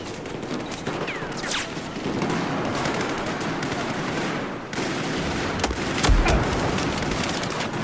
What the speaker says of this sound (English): Dude comes shooting at me. He didn't even know I was there. He's just shooting.